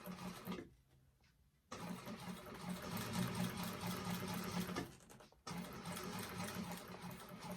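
A sewing machine stitches vinyl for a handbag in steady mechanical runs, pausing twice briefly before resuming its close, even whirring hum, with no voices.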